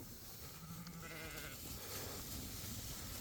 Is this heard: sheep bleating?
yes